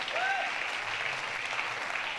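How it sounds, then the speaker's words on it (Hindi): Audience applause at a Hindi comic poetry gathering, a steady broadband patter of many hands held at an even level for the whole stretch, with a brief whistle-like tone near the start. "और अब तालियां इस बात के लिए बजे"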